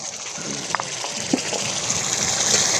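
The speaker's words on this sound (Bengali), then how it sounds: "মশলা আমাদের কষানো হয়ে গেছে, এবার সামান্য পরিমাণে জল দিয়ে দেবো।" Water poured from a vessel into cooked-down spice masala in a pan, a close continuous gushing splash rising slightly in level, with a couple of small clinks, no talking.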